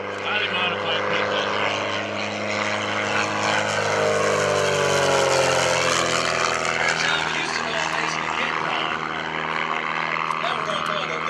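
An aerobatic propeller plane flown by Jason Flood, a highly modified Pitts, rolls out over an airshow, its engine drone rising and falling in pitch steadily throughout, with a public-address announcer talking over it.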